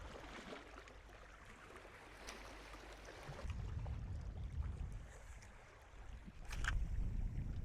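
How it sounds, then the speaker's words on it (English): Wind picks up over open water while bass fishing from a boat, a low rushing roar buffeting the microphone and swelling in gusts, with faint lapping water beneath and no talking. "That wind is starting to pick up."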